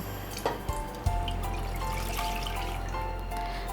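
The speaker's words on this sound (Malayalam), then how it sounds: "ഇനി ബാക്കിയിരിക്കുന്ന പാല് നല്ല ചുവട് കട്ടിയുള്ളൊരു ഇതിപ്പോൾ ഒരു സോസ് പാനാണ്" Milk poured into a thick-bottomed saucepan for mango custard pudding, a steady liquid trickle with a few drips, close and continuous under a low hum, no talking.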